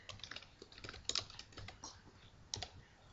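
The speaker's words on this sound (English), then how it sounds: "you want to put in your username and password" Quiet, rapid clicks of someone typing a username and password on a computer keyboard, an uneven run of keystrokes with a few heavier taps, no speech.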